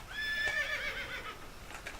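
Horse in a farm video game gives a loud, close whinny lasting over a second, a descending neigh with a faint clip-clop of hooves near the end, no talking.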